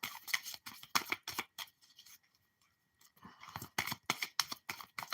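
A tarot deck being shuffled close up, bursts of crisp riffling card noise in quick rhythmic clusters, a short pause in the middle, then more rapid shuffling.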